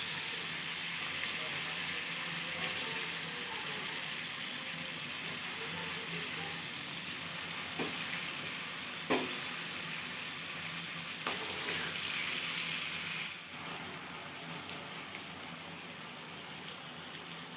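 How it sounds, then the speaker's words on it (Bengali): Pointed gourds frying in oil in a pan, giving a continuous, even sizzle with a few soft clicks and stirring knocks, steady at moderate loudness throughout. "এভাবে আরও কিছুক্ষণ ভাজবো।"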